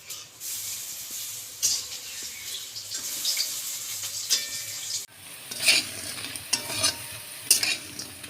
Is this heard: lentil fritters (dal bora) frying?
yes